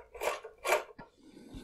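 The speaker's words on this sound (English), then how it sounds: "I have my drill bit to deburr it." A drill bit scrapes and rasps against a stainless steel banana post on a bench power supply, two strong grinding strokes followed by a short click and quieter scraping, close up with no talk.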